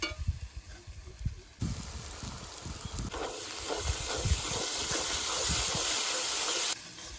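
A cumin and coriander paste goes into hot oil in a frying pan: after a few quiet knocks, a sudden loud, hissing sizzle starts and holds steady for several seconds before dropping off, with no talking.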